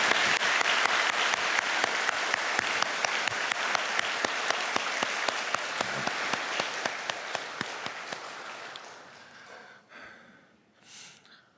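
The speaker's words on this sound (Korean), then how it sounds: "우리 감사와 기쁨의 박수를 한번 하겠습니다" A church congregation gives a long, full round of applause in thanks and joy, sustained for about eight seconds before it thins out and fades into a few scattered claps and room noise.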